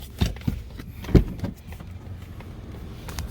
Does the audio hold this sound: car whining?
yes